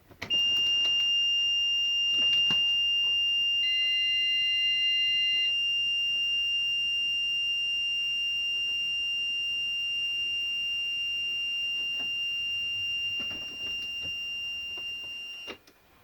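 A Garmin RV890 in-dash unit in an RV gives a steady high-pitched electronic warning buzz after the power comes on, sounding continuously with a few extra beeps layered in before it cuts off.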